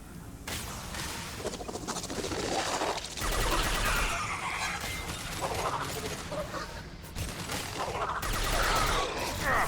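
Submachine gun fire in Mass Effect 2, a sci-fi shooter game: sustained rapid bursts of automatic fire mixed with busy battle noise, loud and continuous throughout.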